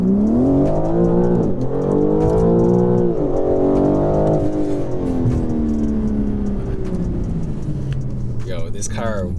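A 2021 BMW G82 M4 Competition accelerating hard, its engine note rising steadily through gears with brief drops at each shift, loud and close from inside the cabin, with people talking over it.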